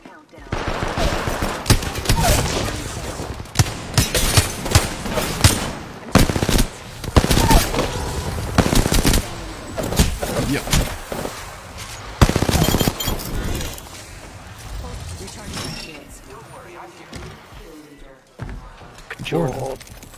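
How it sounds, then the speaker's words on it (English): Rapid bursts of video game gunfire crack repeatedly in clusters, loud and close, with a voice talking over parts of the shooting and a quieter stretch near the end. "I am taking fire, friends."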